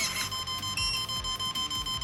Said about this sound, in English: No, what's the ESC alarm?